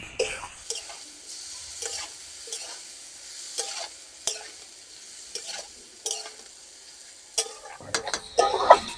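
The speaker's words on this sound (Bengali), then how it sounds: "এবারে আমি এই মশলার ভিতরে ভেজে রাখা ফুলকপি আর আলুটা দিয়ে দেব, দিয়ে 5 মিনিটের মতো কষিয়ে নেব।" Fried cauliflower and potato are stirred into spices in a pan, with a soft sizzle under repeated scraping strokes of a spatula at an irregular rhythm, close by, and a louder clatter near the end.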